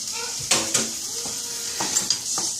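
Garlic hits a hot pan with a steady bright sizzle, broken by a few clinks and scrapes of a utensil stirring against the pan, with no voices.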